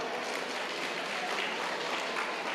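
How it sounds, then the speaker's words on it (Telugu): An audience at a vegetarian rally event in Dhone claps together, a dense sustained burst of applause from a crowd that holds steady throughout. "మన విజయభాస్కర్ రెడ్డి గారి కోసం గట్టి క్లాప్స్"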